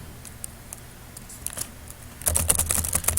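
Fast clicking keystrokes on a computer keyboard while a name is entered into a PHP web form, faint scattered taps at first, then a dense, louder burst of rapid typing near the end.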